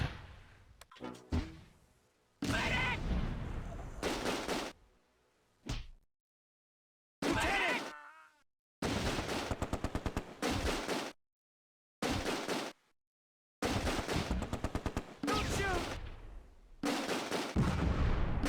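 Gunfire and machine-gun bursts in the WWII strategy game Close Combat at Groesbeek Heights, loud chopped bursts of shots separated by sudden silences, repeating in rough clusters.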